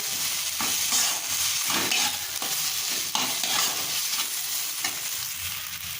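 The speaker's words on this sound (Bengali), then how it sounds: "হাফ টিস্পুন জিরে বাটা দিয়ে কষে নেব।" Rui fish kaliya masala with cumin paste being stir-fried in a pan, a close, steady hiss of sizzling oil broken by repeated scraping stirs, moderately quiet and with no voices.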